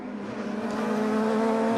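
Touring race cars from the 1997 STW series go by on the circuit at Lahr, Germany. Engines hold a loud steady whine at high revs that swells gently as they pass close.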